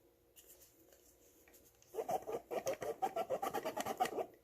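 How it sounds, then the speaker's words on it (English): Flour for a homemade German chocolate cake is sifted through a hand sifter: after a quiet start, a close, rhythmic rasping scrape repeats about three times a second for a couple of seconds, with no talking. "this is sifting the flour with my sifter"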